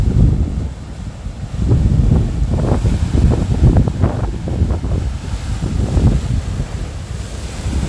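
Rough ocean waves break on a small beach on the southeast side, rolling surges of surf with some wind buffeting the microphone, loud and close.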